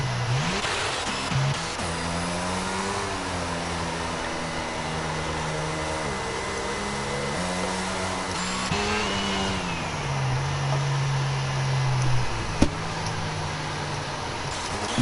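Race cars lapping the Belgian Grand Prix circuit in the F1 22 video game: a continuous high engine whine that climbs and drops in pitch through gear changes, steady and close, with no talking.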